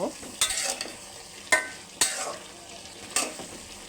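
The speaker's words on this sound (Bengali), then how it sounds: "ঢাকনাটা তুলে নিলাম। নেড়ে চেড়ে দিব।" A spatula scrapes and stirs winter vegetables and dried bamboo-leaf fish in a hot pan. About five distinct, close stirring strokes cut through a steady low sizzle.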